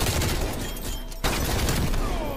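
PPSh-41 submachine gun fired in Call of Duty Cold War, sounding as dense, continuous rapid automatic fire across the whole stretch with a brief break midway, loud and close.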